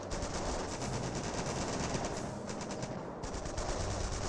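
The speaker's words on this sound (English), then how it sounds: "Now can get ripped apart by the grease guns" Sustained rapid bursts of submachine-gun fire from grease guns in a Company of Heroes battle, steady and dense throughout with no talk over it.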